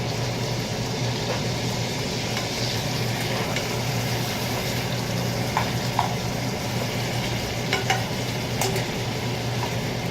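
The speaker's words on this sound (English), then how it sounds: "I'm going to drop the veg back in. Just warm all of that back up just for a minute." Vegetables and steak frying together in a pan, a steady dense sizzle with faint crackles and occasional stirring clicks, constant and fairly close throughout with no talking.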